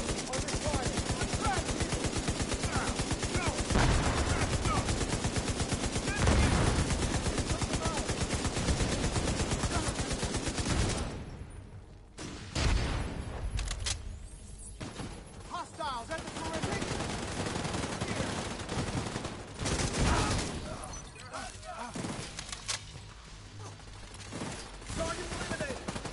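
Sustained automatic gunfire in a PS4 shooter, rapid dense bursts and fusillades dominating the first half, then sparser shots and mechanical clatter with brief gaps, loud and close.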